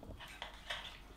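A spoon stirring a whey protein shake, a few soft clinks and scrapes against the container over about a second, close but faint.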